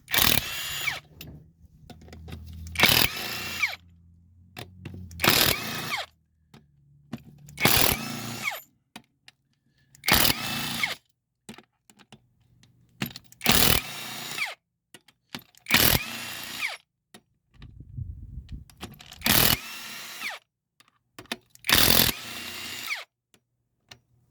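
A Harbor Freight Bauer brushless cordless impact wrench, tested in 1/2-inch and 3/8-inch drive versions, fires in about nine short, loud hammering bursts separated by quiet pauses, with no talking.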